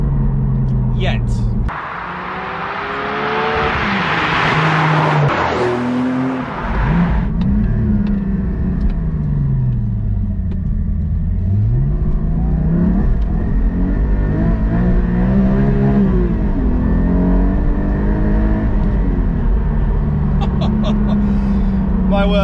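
A Porsche 718 Cayman GT4 track car revs hard on a British B road, its engine loud and close with rising and falling pitch sweeps through gear changes, sustained throughout.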